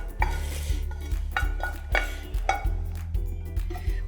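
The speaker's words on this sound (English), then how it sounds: "I'm going to go ahead and add the methi leaves that we sauteed earlier." A utensil scrapes and stirs as sauteed methi leaves are tossed through a lentil crumble in a pan, giving repeated close scraping strokes and soft clinks against the pan with a faint sizzle.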